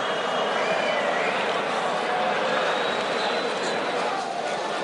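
A boxing arena crowd roars in a continuous, dense wash of cheering and noise with a commentator talking over it.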